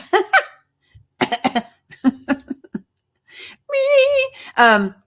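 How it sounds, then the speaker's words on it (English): A person coughs into their elbow during a livestream: a few sharp, close coughs in quick clusters, followed by longer voiced throat and vocal sounds. "Oh, elbow cough."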